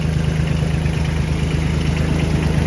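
Kubota mini tractor engine idling steadily at close range, a continuous loud mechanical drone with a strong low hum and no speech.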